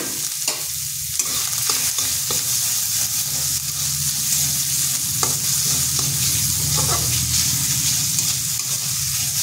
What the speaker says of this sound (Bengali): এগুলো একটু ভাজা ভাজা করে নিচ্ছি।